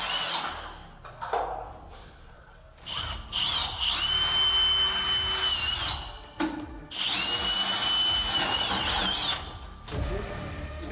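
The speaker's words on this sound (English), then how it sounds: "they started drilling out the lock so we could make entry" A power drill whines in two long bursts of several seconds each while drilling out a door lock, close and loud, with grinding metal and short pauses between.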